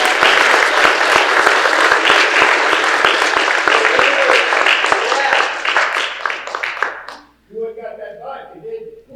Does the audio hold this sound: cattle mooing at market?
no